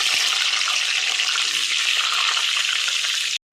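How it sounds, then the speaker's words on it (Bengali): Potatoes fry in hot oil with a loud, steady sizzling hiss that holds for about three and a half seconds before cutting off abruptly. "আলুগুলো এখন ভেজে নেব"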